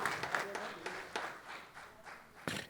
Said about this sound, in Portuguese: Vamos aplaudir ao Senhor, irmãos.